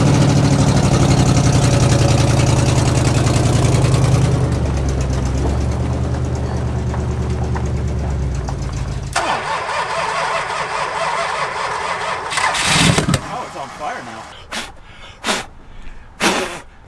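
A 35-year-dormant Chrysler big block in an old Dodge, flooded while starting: the engine runs with a loud, heavy rumble, then drops off and sputters, ending in several short bursts and stumbles.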